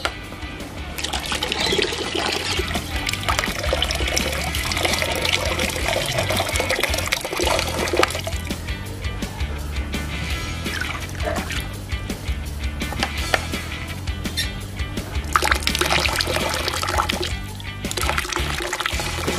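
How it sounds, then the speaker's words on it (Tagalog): Hot water is poured into a container while caring for betta fish, a continuous splashing, trickling flow heard up close throughout. "Mainit na tubig. Ayan. Buhos na natin."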